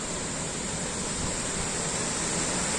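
Yerköprü waterfall in Aladağ, a constant dense roar of falling water with a hissy, broadband wash that stays steady and loud throughout, with no voices.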